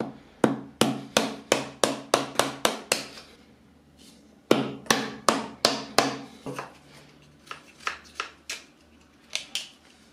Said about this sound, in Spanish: con un martillo voy a golpear un poquito